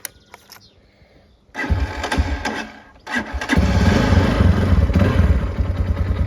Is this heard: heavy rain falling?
no